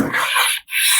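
A hand plane shaving along a wooden table edge, two loud, close rasping strokes separated by a brief pause.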